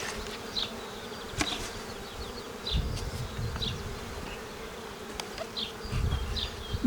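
Honey bees buzz around an open Ukrainian-Alpine hive during a spring inspection, a dense, continuous hum with individual bees whizzing close past, alongside occasional handling knocks.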